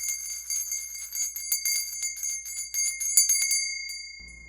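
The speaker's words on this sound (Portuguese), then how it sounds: "balança um sino dourado" A small golden bell shaken steadily, bright ringing jingles repeating close and loud for several seconds, then ringing out and fading.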